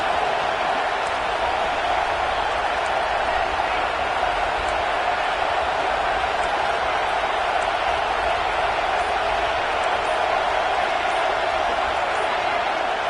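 A packed stadium crowd roars continuously in the college football video game CFB26, a dense, loud, unbroken wall of noise with a few faint whistle-like tones above it and no breaks.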